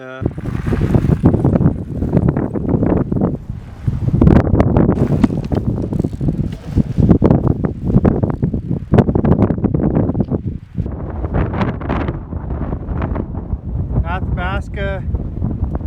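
Strong winter wind on the Icefields Parkway near a glacier and snow drifts, heavy gusts buffeting the microphone in loud surges while a person talks over it.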